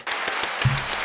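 Brief burst of audience applause and cheering from a played Cyberpunk game clip, a dense wash of clapping that stays steady and fairly loud throughout with no talking over it.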